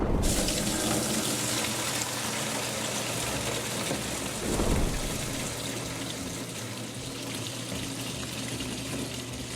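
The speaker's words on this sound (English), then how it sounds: "Down here, I'm gonna go pour some of this brine out." Brine poured out of a jar of fermenting chili peppers for hot sauce into a kitchen sink: a continuous, loud, close splashing gush of liquid for the whole stretch, with no talk.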